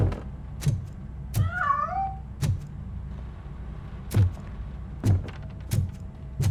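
A cat in the Robocop: Rogue City video game slips away from near a piano, giving a short wavering meow midway, set among repeated sharp clicks and thuds from the game over a low, steady hum.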